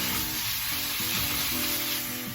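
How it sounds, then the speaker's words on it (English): Half a pound of lean ground white turkey browns in a pan with a steady, dense sizzle, close and continuous, with a few low stirring sounds underneath. "we're going to add in our half a pound of lean ground white turkey. We're just going to brown it up"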